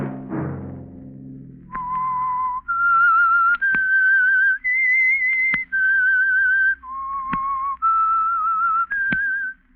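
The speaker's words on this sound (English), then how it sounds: "Let that whistle be your signal for the Signal Oil program, The Whistler." A clear, loud whistled melody of sustained notes stepping up and down in a repeating phrase, the theme signal of The Whistler radio mystery program, heard alone.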